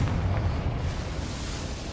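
A Confringo blasting spell goes off in Hogwarts Legacy, a loud, dense explosive rumble that starts at full force and then slowly fades over two seconds.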